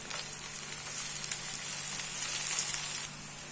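Ginger garlic paste sautés in a pan with a steady, close sizzle that holds for a few seconds and then drops slightly.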